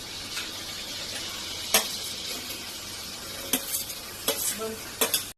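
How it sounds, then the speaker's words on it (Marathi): Amul butter, onion and tomato fry in a pan, giving a continuous sizzle broken by several sharp scrapes and clinks of a stirring utensil against the pan. "हे अमूल बटर कांदा टोमॅटो टाकायचा आहे."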